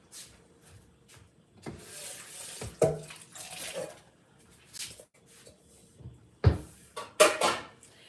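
Rice being rinsed in a kitchen, with intermittent splashes and sloshes of water, a few sharp clatters and knocks scattered through, fairly faint and close, with no talking.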